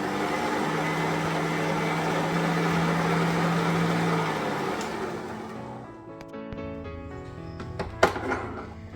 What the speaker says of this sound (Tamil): எல்லாத்தையும் சேர்த்து நல்லா பீட் பண்ணி எடுக்கணும்